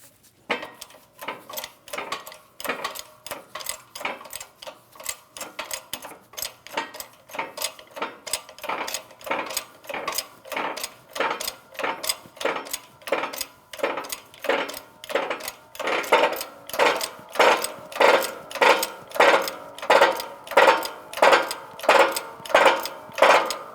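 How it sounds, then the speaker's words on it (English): A shop press seats a wheel bearing onto a Ford Edge hub with a long run of evenly spaced metallic clunks and ratcheting clicks, each stroke close and distinct, growing slightly louder toward the end. "as I was pressing that down, I can hear an audible difference"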